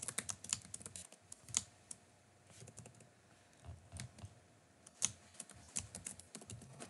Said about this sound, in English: I'm going to go ahead and type out the first sentence